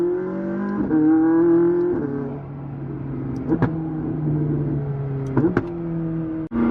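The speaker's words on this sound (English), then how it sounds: "The cracks this thing makes." A McLaren 600LT is driven along while its engine drones with shifting harmonic tones, broken by a few sharp exhaust cracks and pops that stand out loud and close.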